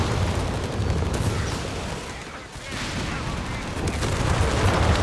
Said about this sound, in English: Artillery fire!